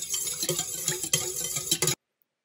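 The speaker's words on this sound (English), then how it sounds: "I'm going to whisk this together." Whisk stirring milk and vanilla extract for funnel cake batter in a bowl, a steady rapid scraping and clinking close up for about two seconds before stopping abruptly.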